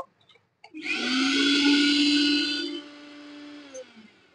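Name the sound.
repaired kitchen mixer grinder running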